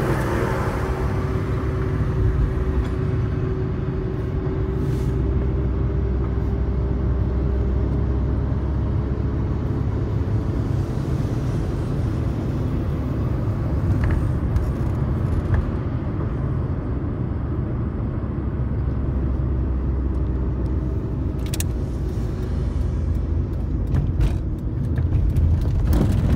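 A truck hauling away earthquake debris in Adıyaman, a steady broad engine rumble holding at constant level throughout among street traffic, with no voices.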